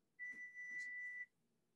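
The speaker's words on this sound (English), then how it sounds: "The timer." A kitchen timer sounds during challah baking at home, one steady faint electronic tone held for about a second amid quiet room noise.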